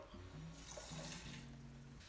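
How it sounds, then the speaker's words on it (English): A cold-water tap runs in a kitchen while someone makes kombucha. The water pours in a steady, faint stream, with a low tonal hum from the tap or pipes beneath it, and no one speaks. "I'm going to go ahead and grab some cold water"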